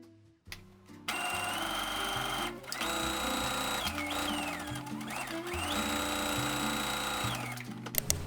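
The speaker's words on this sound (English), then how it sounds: "you're going to sew up and then across the neckline and then around the armholes and around the back" A sewing machine stitches the bodice of a summer dress, running in several steady bursts of rapid mechanical whirring and clatter with short pauses between runs, close and clear.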